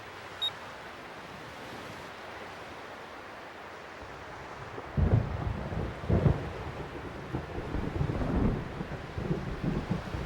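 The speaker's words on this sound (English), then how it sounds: "I hate thunder." Thunder on the beach in Xenosaga Episode I: a low, faint wash of wind and surf gives way midway to several close, heavy rumbling bursts that swell and roll on.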